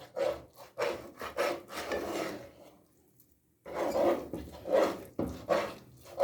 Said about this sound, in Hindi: चार से 5 मिनट हो गया मुझे इसको चम्मच चलाते हुए।